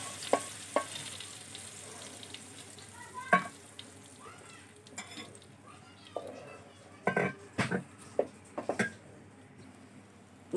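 Thick-skinned tomatoes, some mashed to a paste and some left whole, sizzle in a kadai for a raw mango and tomato chutney. A steady frying hiss is broken by scattered sharp clicks and stirring scrapes, with no talk.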